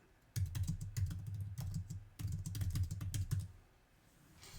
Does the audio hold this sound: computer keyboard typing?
yes